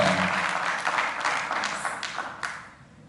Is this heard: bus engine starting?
no